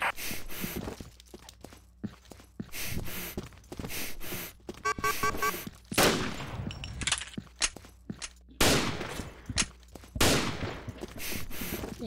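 Gunfire in a first-person shooter video game comes as sharp, loud shots and rapid bursts, separated by short gaps. Footstep-like shuffles and other game noises fill the pauses.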